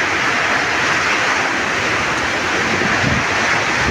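During Typhoon Tino's landfall on an island, strong wind and heavy rain make a dense, unbroken roar that stays loud and even throughout, with no voices.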